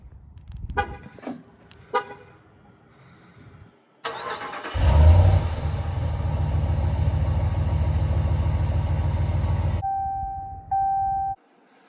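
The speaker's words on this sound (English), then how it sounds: "We need to do a cold start." A 2021 RAM 1500 Warlock truck with a 5.7L Hemi V8 cranks after a few clicks and fires with a loud rev, then settles into a steady, rumbling idle before a chime sounds near the end.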